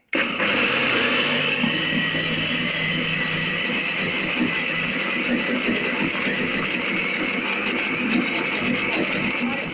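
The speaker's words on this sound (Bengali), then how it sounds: "এই ডালটাকে বাটা হয়ে গেছে মিক্সিতে।" Loud, steady whirring grind of a mixer grinder pulverising soaked lentils with a little water, a continuous motor drone with gritty churning throughout, starting abruptly and running alone without talk.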